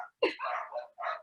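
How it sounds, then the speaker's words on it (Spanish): Dogs bark outside, heard through a window: a sharp bark followed by a couple of longer yelping, whining barks in quick succession, moderately loud against a quiet background. "¿Se escucha mucho afuera el ruido de los perros o algo así?"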